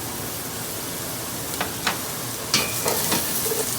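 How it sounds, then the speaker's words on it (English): Bacon sizzles in a hot pan in a home kitchen, giving a steady close-up hiss broken by a few sharp pops and crackles. "And to this, I'm going to add our bacon."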